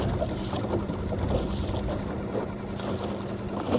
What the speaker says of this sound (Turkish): Rüzgar çok var hala. Rüzgarımız çok.